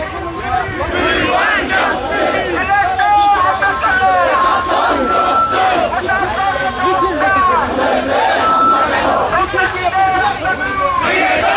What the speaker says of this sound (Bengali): টিএসসি থেকে শুরু হয়ে ভিসি চত্বরের দিকে এগিয়ে যাচ্ছে ঢাকা বিশ্ববিদ্যালয় ছাত্র দলের বিক্ষোভ মিছিলটি